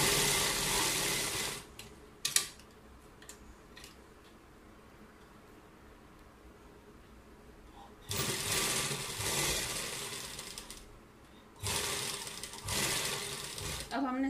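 Sewing machine stitching fabric piping onto a sleeve, running in two steady bursts of close mechanical whirring separated by quieter stretches.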